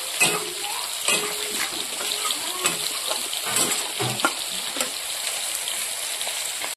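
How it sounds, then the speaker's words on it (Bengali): Potatoes frying and being browned in a pan for a chickpea-pea curry, a continuous close sizzle with scattered clicks and scraping, fairly steady, no talking. "আলুটাকে ভেজে কষিয়ে নিচ্ছি"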